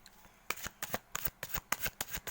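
Tarot cards are shuffled by hand at close range, giving a quick series of crisp riffling bursts in an irregular rhythm.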